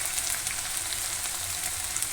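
Cucumber frying with ginger paste in a pan, a steady dense sizzle with faint stirring, continuous and close throughout.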